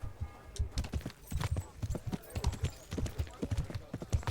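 Horse hooves clip-clop at a steady walking rhythm through a town in the video game Kingdom Come Deliverance, each step close and distinct over faint ambient sound.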